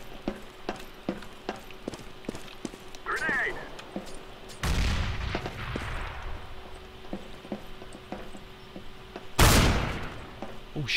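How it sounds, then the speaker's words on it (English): Shotgun fire in Counter-Strike: Global Offensive, two loud sharp blasts spaced several seconds apart over a ticking mechanical clatter of in-game noise. "that's a shotgun"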